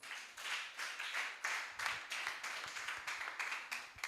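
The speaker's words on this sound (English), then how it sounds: "A round of applause once again for him," Applause from an audience at an export summit, heard as distant, fairly faint clapping that swells in uneven bursts and continues throughout.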